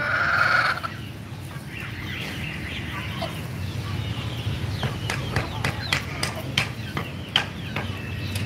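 Hens and roosters of the Aseel breed on a home farm, a hen leading a brood of chicks, with scattered clucks and short calls near and far over steady background noise and someone talking.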